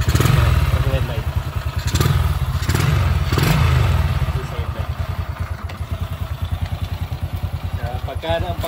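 A small Philippine underbone motorcycle, such as an XRM 110/125, Suzuki Smash, Raider J110 or TMX 155, runs close by with a steady, rapid single-cylinder putter and a few brief revs, while someone talks over it.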